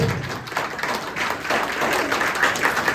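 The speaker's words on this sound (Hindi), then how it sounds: "ताली बजाओ भाई।" A crowd at a Republic Day free health checkup event applauds with dense, steady clapping from many hands that carries on evenly throughout, close and fairly loud.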